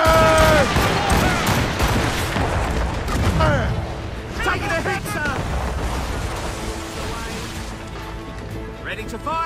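Musket volleys in the Assassin's Creed Rogue video game, a dense burst of overlapping gunfire and booming blasts that thins into scattered shots and rumble, loud and near, with shouted voices and chatter mixed throughout.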